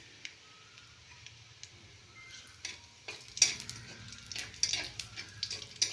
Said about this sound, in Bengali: এইবারে তেজপাতাটা আর জিরেটা ফোড়ন দিয়ে